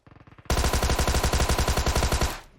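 Close, rapid automatic gunfire in a PUBG Mobile firefight: a burst of around twenty rhythmic shots after a few softer distant pops, with no voices.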